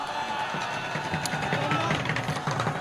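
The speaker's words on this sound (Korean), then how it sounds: "용기 있는 청년한테 다시 한번 박수 부탁드립니다" A large political rally crowd cheers and whoops continuously, with a dense roar of many voices and scattered shouts rising above it.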